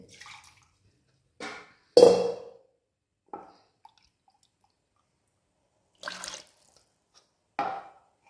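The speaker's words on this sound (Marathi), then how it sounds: "थोडंसं अजून पाणी ओतते" Several short, separate splashes of water poured into a pot of egg curry, each a brief burst with quiet pauses between them.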